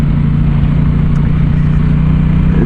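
Aprilia Tuono 660 Factory motorcycle engine holding a steady, loud low drone throughout, with no clear revving and no one talking.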